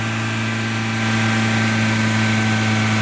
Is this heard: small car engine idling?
yes